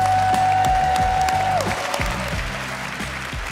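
A studio audience on a television show breaks into loud, dense applause and cheering that holds steady and fades slightly toward the end, with a brief electronic tone at the start.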